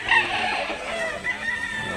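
Roosters crow and cluck up close at a rooster sale in Mantalungon, Barili, Cebu, with a steady, busy run of bird calls through the whole stretch.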